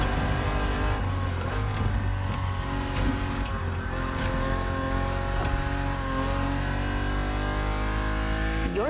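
BMW Z4 E89 coupe cabriolet driving in the racing game The Crew Motorfest: a loud, steady engine drone with layered harmonics that rises and falls as the car revs, with brief tire noise, no voices.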